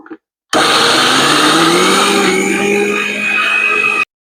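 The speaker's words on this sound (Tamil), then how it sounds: "அரிச்சு எடுத்து போட்டு அடுத்தது வெங்காயத்தை போட்டு அரிச்சு எடுக்கணும்" An electric mixer-grinder whirring loudly and continuously for about three and a half seconds while grinding seedless tamarind and onions, starting abruptly and cutting off cleanly, pitch easing slightly as it runs.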